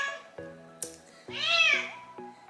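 A pet cat meows close by, a few short chirpy calls followed by one longer, rising and falling meow, fairly quiet in a calm room.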